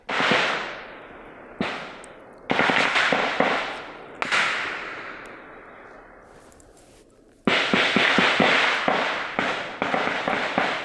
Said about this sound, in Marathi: या व्हिडिओमध्ये गोळीबाराचे आवाज किंवा कमांडोजकडनं, सुरक्षा दलाकडनं कसं ऑपरेशन राबवलं जात आहे ते आपल्या लक्षात येत आहे